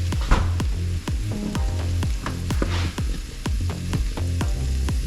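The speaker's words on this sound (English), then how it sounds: "cooked them in bacon grease until they were done on the bottom side" Scallops fry in bacon grease in a pan with a loud, close, continuous sizzle, crackle and sputter, accompanied by a regular series of sharp pops or taps.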